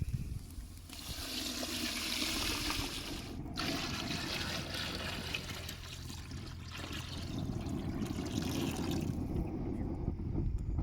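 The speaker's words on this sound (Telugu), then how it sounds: "కొలత ప్రకారంగా నీళ్ళు అయితే పోయేసుకుందాం." Water pours steadily into a pot for chicken biryani, a continuous splashing, trickling rush that stays close and fairly loud for the whole stretch, with no talk over it.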